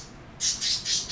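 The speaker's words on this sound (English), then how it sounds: "My birds think so too." Pet birds squawk indoors in three harsh, shrill bursts in quick succession, loud and close with no talk over them.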